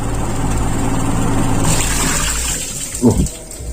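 Water is poured in volume over the distributor of a Toyota Kijang, giving a steady close rushing and splashing that ends in a brief louder gush near the end.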